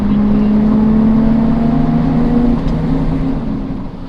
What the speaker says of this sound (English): There goes the diesel.